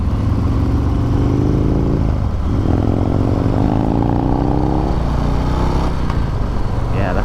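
A 2022 Harley-Davidson Street Bob is ridden with a continuous, close engine drone whose pitch rises and falls with the throttle, mixed with wind rush throughout.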